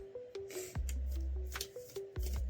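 A deck of oracle cards is shuffled by hand in a few quick riffling bursts, each a crisp papery flutter with soft taps between, close and clear with no talking.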